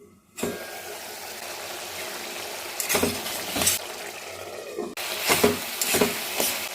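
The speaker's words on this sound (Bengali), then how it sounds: "একসঙ্গে সব মশলাগুলো ভালো করে কষিয়ে নেব।" Ground spice paste and its water sizzle in a pan for Bengali rui fish-head kanta chorchori, a steady fry hiss broken by several louder scraping stirs.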